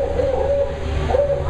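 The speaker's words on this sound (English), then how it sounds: "Okay. Here's a barred owl." A recorded barred owl call plays back, two hooting phrases rising over a steady low hum, moderately loud and with no voices over it.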